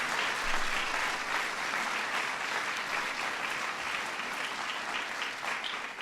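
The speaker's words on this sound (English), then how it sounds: "Give Joan a big round of applause." Audience at the White House ceremony for the 2012 National Medals of Arts and Humanities applauds Joan Shigekawa of the National Endowment for the Arts, sustained, fairly distant clapping that tapers slightly toward the end.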